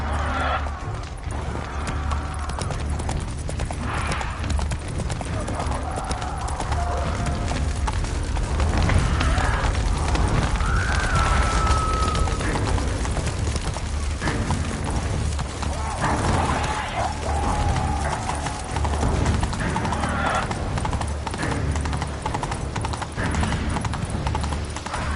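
A horse gallops in The Witcher 3, with a steady, rhythmic clip-clop of hooves running continuously over a soft background of game ambience.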